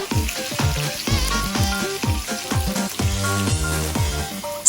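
Garlic, ginger, bay leaves and onion fry in oil in a pan, giving a steady close sizzle that sits under prominent background music with a strong beat.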